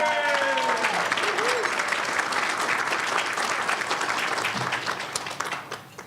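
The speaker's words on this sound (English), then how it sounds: "give a rousing round of applause to Ms. Suzette Covalt." An audience at a 2018 county budget luncheon bursts into sustained clapping for the board's new chair, the applause strong at first and fading near the end, with a brief voice heard amid it.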